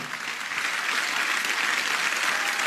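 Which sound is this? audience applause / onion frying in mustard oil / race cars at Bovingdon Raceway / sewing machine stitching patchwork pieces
audience applause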